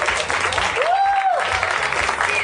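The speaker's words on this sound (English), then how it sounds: "Keep your applause going" Audience applause at a live comedy show, a steady dense clapping wash filling the whole stretch, with a brief whistle-like tone rising through the middle.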